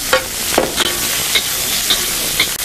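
Chili lobster with Chinese ham being stirred in a hot wok, with a steady sizzle broken by regular scraping, clinking strokes of the utensil, close and fairly loud.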